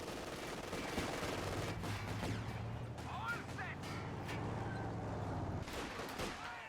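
Sniper rifle and other gunfire crack through a battle in the strategy game Company of Heroes, with repeated sharp shots and rattling bursts over a steady din of combat while a commentator talks.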